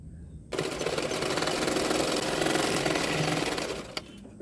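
Sewing machine stitching blouse fabric starts abruptly and runs in a fast, steady, loud mechanical rattle for about three and a half seconds, then stops with a small click.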